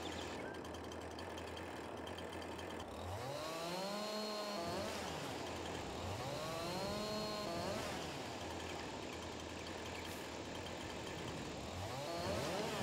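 Chainsaw in a farming video game revving and cutting the limbs off a felled tree, rising and falling engine whines in repeated passes over a steady low idle, loud and close.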